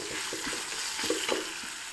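Chopped ginger fries in a pan of hot oil, giving a steady close sizzle with brief rhythmic scrapes of stirring throughout.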